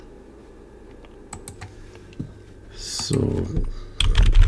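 Close, steady clicking and clacking on a computer keyboard while a Kubernetes service file is edited, with the keystrokes growing louder and faster near the end after a brief spoken word.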